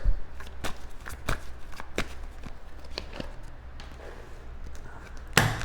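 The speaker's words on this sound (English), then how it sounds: "Just want to shuffle it." Soft, close tarot card shuffling with a series of light taps and flicks at an uneven pace, ending in a sharper slap, with no voices.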